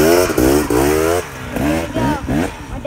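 A KTM 300 XC two-stroke dirt bike revs hard in several rising bursts close by, its buzzing engine note climbing and falling with each twist of the throttle.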